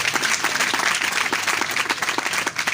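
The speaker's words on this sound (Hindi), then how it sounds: "आइए जोरदार ताली बजाइए" Audience clapping at a church sermon gathering, a dense, loud burst of applause that runs for the whole short span with no talk over it.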